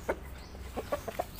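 Clucking from a crossbred chicken, a Ganoi rooster crossed with a Pama hen, several short soft clucks in an irregular run, fairly close and quiet with no talking.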